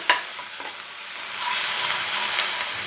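Chopped ginger and garlic fry on a high gas flame in a pan, a steady loud sizzle with occasional stirring scrapes and no talking.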